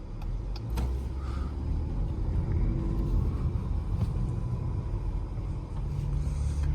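A 2025 Jeep Grand Cherokee Summit Reserve cruising on a city road in Louisville, with a steady low cabin rumble of engine and tyres that continues evenly throughout and carries no talk.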